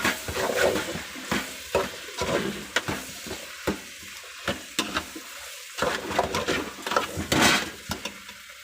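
Capsicum and cauliflower are stirred in a hot pan with a spatula, giving a run of irregular scraping strokes over a soft, steady sizzle, close and fairly loud.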